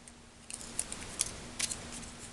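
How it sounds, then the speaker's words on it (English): Martha Stewart scissors cutting paper for a Christmas fawn shaker card, heard as a few quiet, crisp snips spaced apart over a faint steady hum. "So let's cut a little bit of this out."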